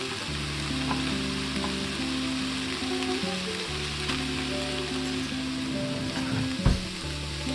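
Onions sizzle and fry in a pan with ground beef for a ground beef and potato dish, a steady close crackle broken by a brief stir or clatter near the end, with no talking.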